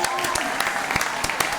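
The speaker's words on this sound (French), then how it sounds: "Les gars, un maximum d'applaudissements pour Taïla" Applause for a performer named Taïla at a lively French show, a steady wash of clapping with sharp individual claps standing out, fairly close and loud, with speech-like crowd noise mixed in.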